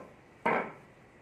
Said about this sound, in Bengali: বঁটিতে কাটলে কীরকমভাবে আমি সেটাও দেখিয়ে দিচ্ছি